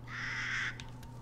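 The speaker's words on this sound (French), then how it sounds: "on entend des corbeaux" Crows caw in a dark game world in Resident Evil Village: one sustained harsh call followed by two short, sharp caws, heard close over a steady low ambient hum.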